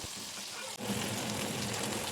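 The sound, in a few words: frying bottle-gourd-leaf-wrapped chepa shutki (dried fish) fritters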